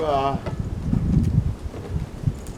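Gusty wind buffets and rumbles against the microphone, roaring unevenly over a brief voice at the start.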